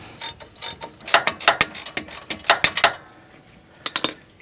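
Ratchet wrench cranking a castle nut onto a control arm of a 2004 GMC 3500 Duramax truck: rapid bursts of close metallic clicking in several runs, with short pauses between strokes and no talk.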